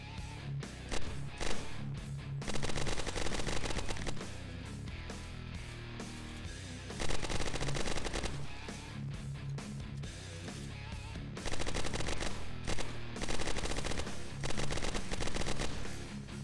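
Rapid automatic bursts from a homemade PPSh submachine gun in Fallout New Vegas combat, repeated loud volleys with short pauses between them, mixed with game effects and no talk.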